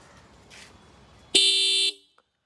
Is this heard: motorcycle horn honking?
yes